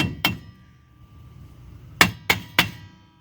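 Metal tapping on the back plate of a lawnmower during repair: one sharp clang, then after a pause three quick taps in a row, close and fairly clear against a quiet workshop background.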